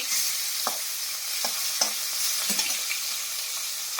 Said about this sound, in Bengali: মাছটাকে ভালো করে ভাজি করে নিই